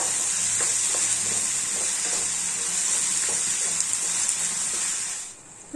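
Onion, tomato and turmeric are sautéed in a pan, a steady close sizzle broken by repeated soft scraping stirs, cutting off abruptly near the end.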